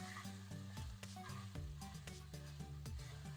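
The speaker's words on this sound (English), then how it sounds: "you want to hear that sizzle" Beef for Kerala beef fry sizzles steadily in a saute pan over medium-high heat, a dense crackling hiss with frequent small pops and clinks from stirring, loud and close.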